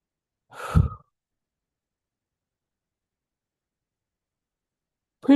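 A single short yawn-like exhale from a woman during a guided channeling and healing session, a breathy sigh under a second long, close to the microphone, followed by silence.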